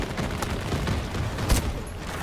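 Battlefield 2042 combat plays out as a steady din of gunfire, with one sharp, louder crack standing out near the middle above the background shooting.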